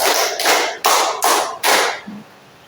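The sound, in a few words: class doing a 'tepuk 5' clapping pattern once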